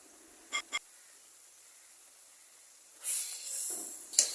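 Garlic dropped into hot oil in a wok for tempering mango pickle, giving a brief hissing sizzle after short clicks, with a louder bright spitting burst near the end; no talk.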